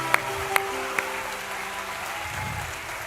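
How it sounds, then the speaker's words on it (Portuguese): A church congregation applauds during a sermon, a steady wash of moderate clapping that carries on throughout with a few sharper isolated claps early on and no speech over it. "Joabe, quer aplaudir Jesus?"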